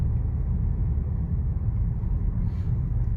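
A Mercedes A 250e AMG Line plug-in hybrid's petrol engine engaging under hard acceleration, a steady low droning rumble heard from inside the cabin, continuous and fairly loud without talk.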